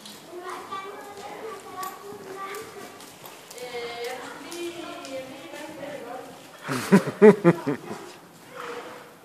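Children and adults chat while a horse stands nearby. Near the end, a short burst of several rhythmic hoof clops rises briefly above the voices.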